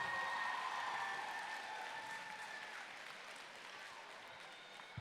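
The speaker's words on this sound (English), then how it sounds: "Another round of applause for Vivian Nieto," A school talent show audience applauds a performer in a big room, a broad wash of clapping that starts strong and slowly tapers, heard from some distance.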